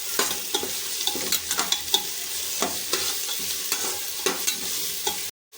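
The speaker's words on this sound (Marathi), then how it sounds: "आता आपण आलं लसूण पेस्ट टाकणार आहोत त्याच्यामध्ये आणि ती मिक्स करून घेणार आहोत" Ginger garlic paste is stirred into softened onions frying in a pan for a Konkani prawn biryani, with a continuous close sizzle and repeated scraping strokes of a spoon, ending abruptly.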